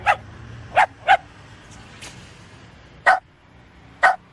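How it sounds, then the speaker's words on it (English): A mangy old dog barks in a series of sharp, separate barks with irregular pauses, close and fairly loud, with no talking over them. "Donnell, what the hell am I supposed to do with this mangy old dog?"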